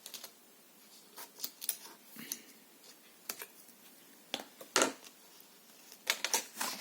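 Sharp scissor snips cutting paper for a small gift pouch at irregular intervals, close and crisp, with quiet pauses between cuts and no talking.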